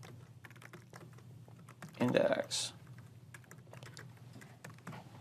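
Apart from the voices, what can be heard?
typing on a computer keyboard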